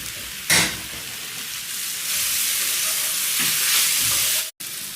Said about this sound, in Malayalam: ഇത് നമ്മൾ ഇടക്കൊന്ന് ഇളക്കി കൊടുക്കുക ഇളക്കി കൊടുക്കുമ്പോൾ ഇതുപോലെ ഒന്ന് ഉടച്ചു കൊടുക്കുക